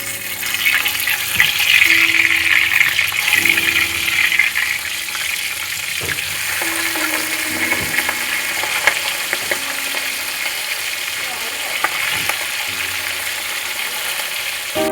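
Pabda fish keep frying in oil in a pan after being flipped, a steady close sizzle and crackle with faint utensil scrapes and clinks scattered through.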